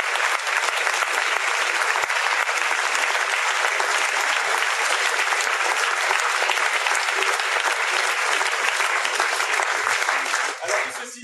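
Loud, dense audience applause at a French theatre stage performance, continuous clapping throughout with no talk, cutting off abruptly at the end.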